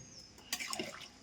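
Water poured into a pot of mutton curry (kuzhambu) in a home kitchen: a short, close splash and trickle lasting about a second, with no voices.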